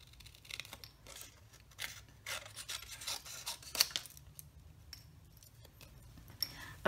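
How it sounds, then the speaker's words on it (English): Detail scissors cutting out a stamped paper image, giving soft, close snips and paper rustling in a quiet, faint, irregular rhythm. "just gonna need your paper snips or some really good detail scissors"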